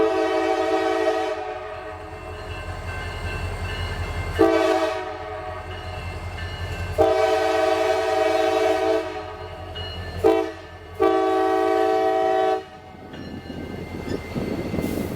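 A lone SD40-3 diesel locomotive, number 4035, rolls past with a steady loud engine drone and sustained horn blasts that sound in several long bursts and short toots, rail clatter underneath.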